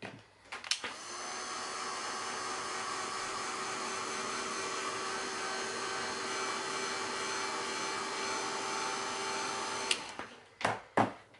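A hair dryer blows steadily at close range to dry a watercolour drawing made with Inktense pencils, a loud continuous whirring airflow that runs for about nine seconds, then cuts off, followed by a few handling knocks.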